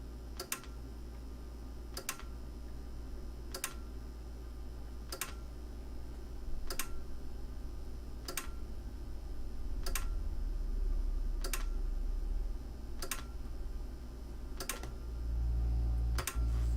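A relay in a car audio amplifier under repair clicks in and out in a steady rhythm, about one sharp tick every second and a half, over a constant buzzing hum.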